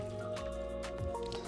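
Water poured into a pot of fresh or frozen cranberries for spiced cranberry sauce, a few soft splashing bursts under steady background music.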